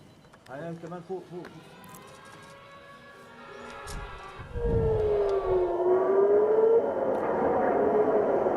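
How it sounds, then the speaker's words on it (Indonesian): Air raid sirens wail steadily across Tel Aviv, pitch rising and falling over a loud rumbling background, with brief voices and noise early on. "Sirine meraung-raung di seluruh Tel Aviv dan ledakan terdengar jelas"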